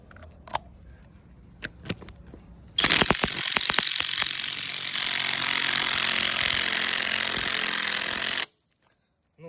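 A Dnipro-M DTW-202BC Ultra cordless impact wrench hammers loudly on a stubborn nut, alone and close, running in two long sustained bursts after a few light clicks and taps.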